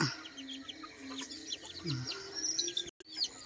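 Chickens coming down from their coop in the morning, several birds clucking and chirping close by in an irregular stream, with scratchy movement and a brief dropout near the end.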